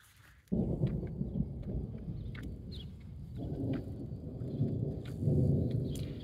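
Deep, rolling thunder rumbles in after a quiet moment, swelling and fading in long waves with a few brief crackles above.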